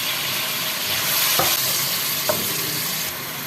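Steady sizzling of garlic-ginger paste and onion frying in a hot pan, with a couple of brief scraping stirs, and no talking.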